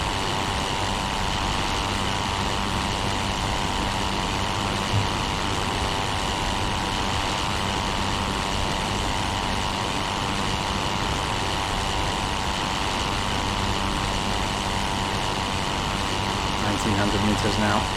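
Fokker E.II monoplane engine droning steadily in the Rise of Flight combat simulator, a constant loud rotary-engine hum with no change in rhythm for the whole stretch.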